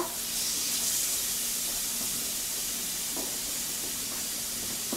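Onions frying in a pan for pizza sauce, a steady close hiss and sizzle that holds evenly throughout without pause, with no talking over it.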